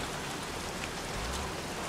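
Steady, soft hiss of rain falling in the video game Heavy Rain, a continuous wash of droplets without distinct impacts and no talking.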